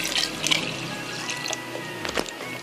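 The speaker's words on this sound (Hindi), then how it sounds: "पानी ऐड करेंगे।" Water pours steadily into a cooking pot of boiled chickpeas and lentils, a continuous splashing gush with a brief louder burble near the end.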